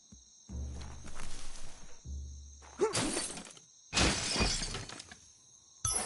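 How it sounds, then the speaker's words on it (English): Wooden box smashed apart in the Biomutant video game: several loud splintering, shattering crashes in quick succession, each burst of breaking wood sharp and close, with a steady high game tone running underneath. "You shouldn't worry about smashing up the box."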